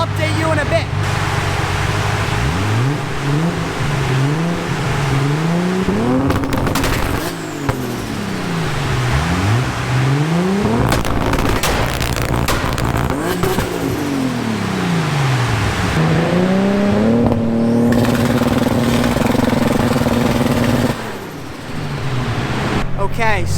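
A Toyota 2JZ-swapped Nissan 240SX revs hard on a dyno, its engine note climbing and falling through several loud, sweeping pulls close by, with voices faintly underneath.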